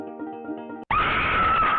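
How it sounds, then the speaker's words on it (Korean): A loud, piercing scream from a wine cellar in a mobile escape-room video game, bursting in abruptly after a short stretch of musical tones and holding steady to the end. "와인 저장고 쪽에서 짖어지는 비명이 들려왔다."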